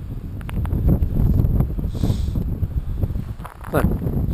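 Blustery wind roaring and buffeting across a microphone on a morning outdoor walk, loud and continuous with gusty swells throughout.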